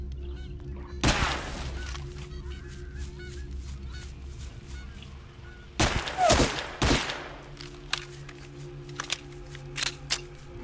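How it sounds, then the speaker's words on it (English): Gunfire in S.T.A.L.K.E.R. Call of Misery: a few loud, sharp shots and short bursts that crack out of a low, steady ambient hum, separated by quiet stretches, with a couple of quicker reports near the end. "what happened if I just shot this dude?"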